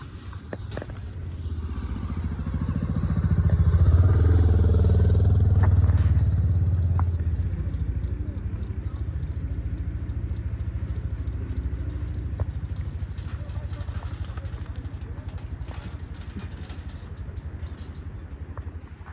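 A motorcycle passes on the Kaligandaki corridor road, its engine swelling to a near, rumbling peak after a few seconds, then settling into a steady lower drone with faint clatter.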